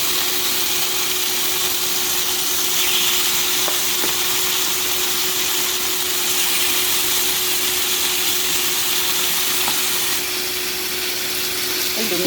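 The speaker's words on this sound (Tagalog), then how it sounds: "karon nato nang i-prito ang chicken" Steady, loud sizzling of chicken frying in a pan, continuous hiss throughout with a faint hum and occasional small clicks.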